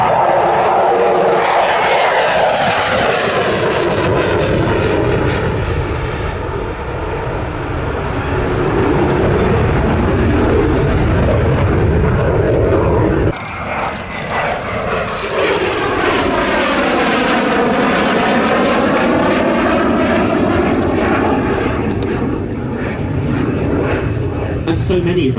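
An F-16 fighter jet flies at the Leszno airshow, a loud roaring engine that swells and sweeps in pitch as it passes, with a sharp change midway as it turns. A commentator talks over the roar throughout.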